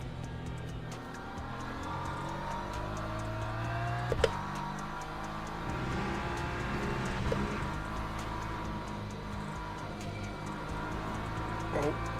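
BMW race car engine in the Le Mans Ultimate sim racing game, a steady droning roar held at constant volume throughout with small shifts in pitch, plus a couple of brief clicks.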